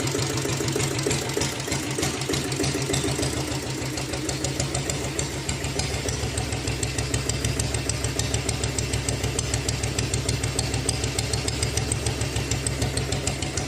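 Vintage Royal Enfield diesel Bullet motorcycle engine idling nearby, a loud, steady, even thumping beat that goes on throughout with no voices.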